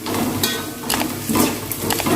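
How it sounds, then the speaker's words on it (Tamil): Ginger, garlic and green chili being stirred in a pan, giving a soft, steady scraping and sizzling with a few brighter clinks of the spoon against the metal, close and continuous with no talk. "நல்லா கிண்டி விட்டுக்கலாம்"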